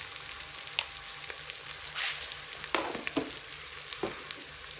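Onions frying in a pan for white qorma, a soft steady sizzle with scattered stirring clicks and a brief hiss, fairly quiet and without talk.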